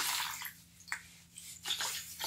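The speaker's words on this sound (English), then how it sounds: "I'm just using clean water and a sponge to get rid of that gum arabic" Water being sponged over a mokulito printing block to rinse off gum arabic, heard as soft splashes and wet wiping strokes in a few irregular bursts, close and fairly quiet.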